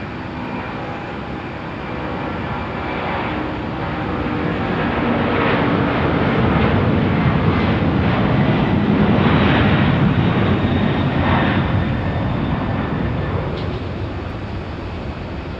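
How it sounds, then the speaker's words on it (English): A heavy Boeing 767 jet takes off at Phoenix Sky Harbor, a broad continuous engine roar that swells to a peak midway and then eases slightly, heard from a distance. "767 taking off. Heavy alert."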